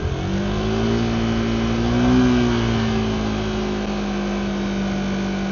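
A motorcycle engine revs and then holds at a steady raised rpm with a throttle lock engaged, a loud continuous drone that swells slightly midway and stays even, with no talk.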